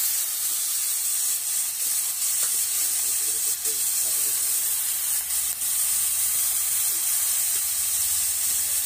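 Spinach hits a hot pan and sizzles with steady, loud steaming hiss that holds without a break throughout.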